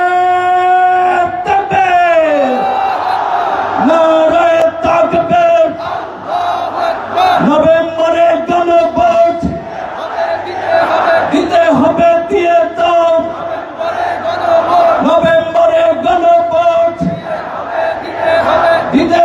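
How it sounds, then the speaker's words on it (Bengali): A dense crowd at a political rally of Jamaat and eight allied parties in Paltan, Dhaka, chants a slogan in loud repeated call-and-response waves, a lead voice over a public address system cueing each roaring group reply. "আমরা সবাই একটি স্লোগান ধরতে চাই"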